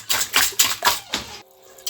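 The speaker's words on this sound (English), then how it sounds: "So we whisk it together with the sugar and everything." A whisk beats egg roll batter with sugar in a bowl, quick rhythmic clinking strokes in about five bursts, close and alone, before stopping.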